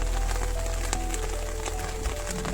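Steady rain falls in Himachal, a constant hiss and patter on surfaces with scattered louder drops, heard close up and alone.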